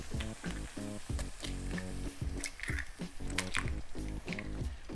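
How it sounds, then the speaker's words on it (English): Six eggs drop into a hot pan of spices for Indian street-food spiced eggs, setting off a loud, continuous crackling sizzle with wet squishy pops, close up and with no talking. "I'm just going to go 6 eggs straight into the mix"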